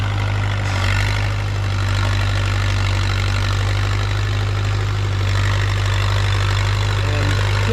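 A low, steady engine idles close by, a constant rumble from a Minneapolis-Moline Z or Massey Harris 22 tractor that holds with no one talking.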